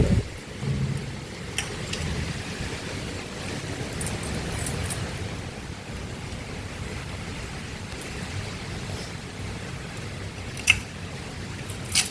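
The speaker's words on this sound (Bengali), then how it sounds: "বাইরে এখনো বৃষ্টি হচ্ছে হাওয়া দিচ্ছে" Rain falls steadily outdoors during Cyclone Remal as a continuous hiss, with occasional faint drips and taps standing out. Nobody talks.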